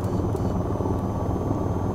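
An AH-94 attack helicopter in the video game VTOL VR, a constant loud rotor and engine drone with a thick low rumble and no talk.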